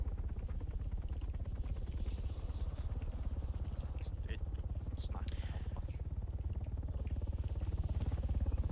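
A helicopter flies in a military video game during a training operation, its steady low rotor chop and engine rumble droning continuously under faint voices.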